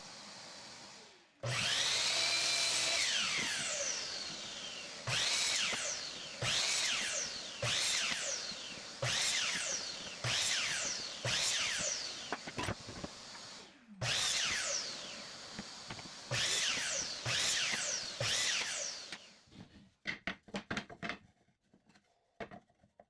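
A power drill whirs in a series of short bursts, each rising in pitch as a screw bites into 2x4 wood, close and loud, then clattering handling noises.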